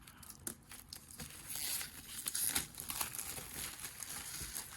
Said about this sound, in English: Let's go ahead and take off the clear plastic here.